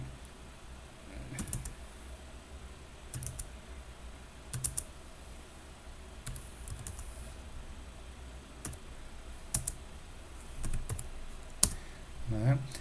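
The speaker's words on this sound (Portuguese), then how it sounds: "vou digitar dados aleatórios aqui" Data typed on a computer keyboard: soft steady keystrokes with occasional louder clicks, fairly close, over faint room noise.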